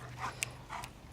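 A Bernese Mountain Dog gives faint, brief whimpers, two soft whines close by in a quiet room.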